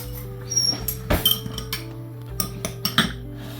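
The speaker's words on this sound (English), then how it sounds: "We're going to get a couple of spoons." Metal spoons clink against dishes in a kitchen while chopped suey is served. A run of sharp, close ringing taps comes at uneven intervals, some single and some in quick pairs.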